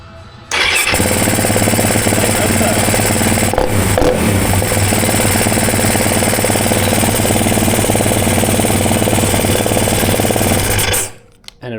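A Yamaha WR450F motorcycle engine fires up and runs steadily at a loud, close idle for about ten seconds, with a brief dip near the four-second mark, then cuts out abruptly.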